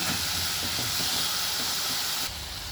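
Onion, garlic and potato frying together in a pan, a steady, loud, hissing sizzle that holds evenly throughout and drops slightly just before the end.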